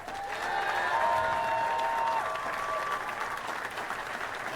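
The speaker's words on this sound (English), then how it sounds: "how about one more round of applause for our 2 finalists?" A crowd at a girls' state finals basketball event applauds steadily, broad and sustained clapping filling the space while an announcer's voice is faintly present underneath.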